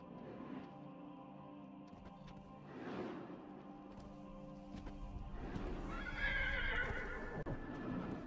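A horse neighs loudly in a long, wavering whinny, with hoof clip-clops, whooshing movement and rising background noise.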